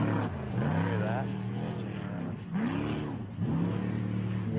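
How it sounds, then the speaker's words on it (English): A deep, rumbling race truck engine roars steadily nearby during the Baja 400 off-road desert race, its pitch rising and falling as it revs, with voices talking over it. "his engine sounds good"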